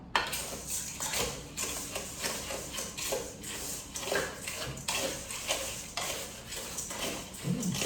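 Duck confit seasoning is mixed in a bowl; a utensil knocks and scrapes the dish in a steady, fairly regular rhythm, soft and close.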